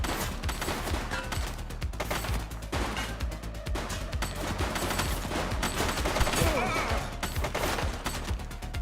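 Sustained gunfire fills a shootout in the police game The Precinct, with repeated volleys and automatic bursts popping loudly nearby throughout, plus occasional crashes and faint voices in the mix.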